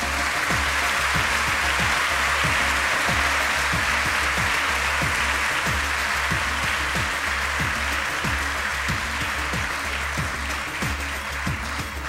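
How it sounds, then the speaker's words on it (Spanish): Sustained applause from the audience at a national and international education excellence award ceremony, a dense, even wash of many hands clapping that holds steady throughout with a low hum underneath. "Pedimos un aplauso a las empresas e instituciones que hacen posible este concurso"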